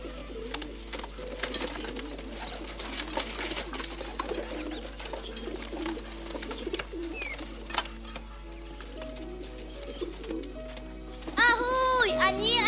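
Pigeons cooing with soft throaty warbles, close by, over continuous chatter from a child and an adult, with a steady low hum underneath and a louder burst of cooing at the end.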